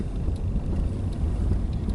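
A Nissan Primera's engine runs steadily while the car is driving on the outskirts of Athens, a continuous low rumble mixed with road and wind noise, with no talk.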